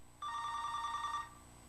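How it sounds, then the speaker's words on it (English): A telephone bell rings once, a single steady electronic trill lasting about a second, moderately loud and alone against a quiet background. "Someone, get a phone. Get a phone, please."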